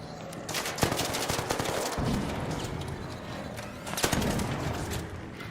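Gunfire in the video game Arc Raiders crackles through a dense, noisy battle mix, with sharp reports standing out near the start and again around the four-second mark over a constant rumble.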